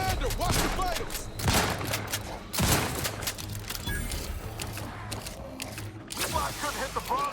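Gunfire in The Outer Worlds, a sci-fi shooter, breaks out in bursts of shots with broadband cracks around the one-and-a-half and two-and-a-half second marks, while game voices and ongoing talk stay underneath throughout.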